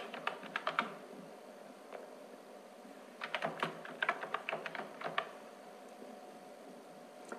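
Watermark text typed on a computer keyboard: a few quick keystroke bursts with pauses between, crisp and close against a quiet room, with no voices.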